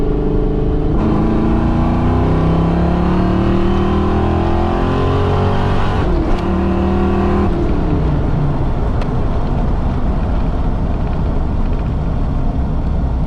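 A loud car engine with a Vortech supercharger at 11 psi revs up in third gear toward redline, its pitch climbing steadily, briefly dropping, then pulling hard again with a rough, rising roar.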